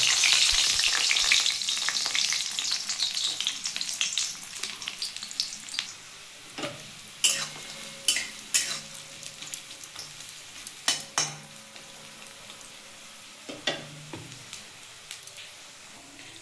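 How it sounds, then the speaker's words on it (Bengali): Carrots frying in hot oil for a vegetable masoor dal, a steady sizzle that starts loud and dense, then settles into a quieter crackle broken by sharp stirring clicks and pops, close up with no talking. "আমার তেলটা গরম হয়ে গেছে। আমি এতে গাজরগুলো একটু ভেজে নেব।"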